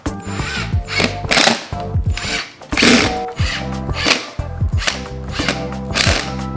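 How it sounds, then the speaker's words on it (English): A power drill drives screws into a Segway go kart wheel, loud close whirring bursts that rise and stop repeatedly, with ratcheting clicks and short pauses between each screw. "she just used the drill to get the screw to catch on the bolt"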